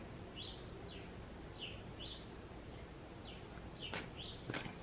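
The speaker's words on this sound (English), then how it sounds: "That bird is just chirping, and it's in a place where it normally wouldn't even be" Repeated short bird chirps, fairly faint and spaced irregularly, over a steady background hiss, with a couple of sharp clicks near the end.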